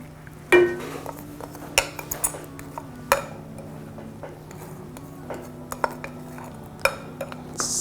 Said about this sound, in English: So I'm gonna stir this.